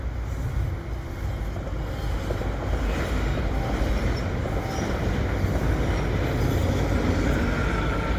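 An EXO commuter train hauled by an old F59PH locomotive rolls past in winter, a loud, steady rumble of wheels and railcars with faint squeals and clacks, close by.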